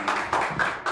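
A church congregation at an anniversary thanksgiving service claps in a quick burst of four roughly evenly spaced loud claps, close and reverberant.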